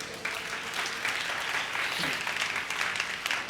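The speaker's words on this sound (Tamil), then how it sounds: "கைத்தட்டுங்க பார்க்கலாம்." A church congregation at a Sunday service claps their hands together in steady, dense applause that fills the room for the whole stretch, with no talking over it.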